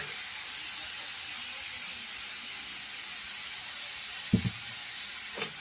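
Ginger, garlic, onion and green chillies fry in a pan with a steady, even sizzling hiss. Two dull knocks land near the end.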